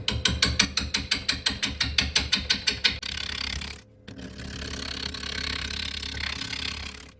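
A wood lathe spins an unbalanced root ball, first with fast, regular mechanical thumps, then a steady, close whirring hum after a brief drop.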